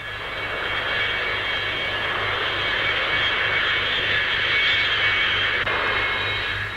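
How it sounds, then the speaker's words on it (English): Vickers Supermarine Swift jet fighters flying at the 1950 Farnborough air show, a steady loud jet roar sustained throughout with a low hum underneath. "Vickers Supermarine Swifts were there."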